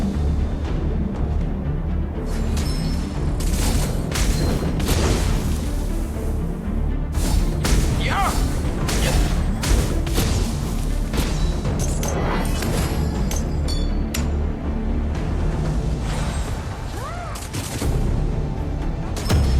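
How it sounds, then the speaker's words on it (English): Heavy battle effects from a ROV mobile game fight as a tower is destroyed: dense, loud, continuous booms, crashes and rapid blasts layered over one another, with a game voice briefly cutting through. "Your team has destroyed a tower."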